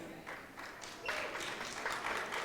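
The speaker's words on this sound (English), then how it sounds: "But give yourselves a round of applause" A crowd claps together in a burst of applause that swells after a moment, heard from within a large room.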